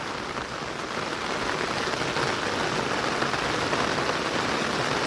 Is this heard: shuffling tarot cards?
no